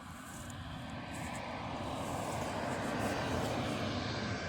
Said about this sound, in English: we've got another plane that's actually coming to land. I think that might be 737.